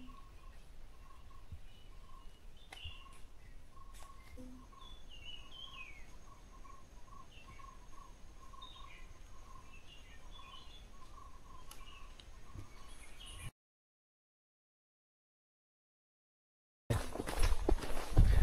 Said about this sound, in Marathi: जंगलात किती शांतता असते आणि पक्ष्यांचे कसे किलबिलाट जे आवाज येतात